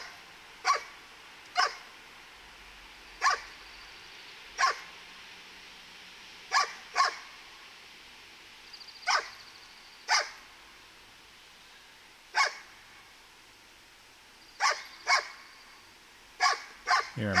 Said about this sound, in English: Here I'm waiting till I get several barks quickly before I mark yes.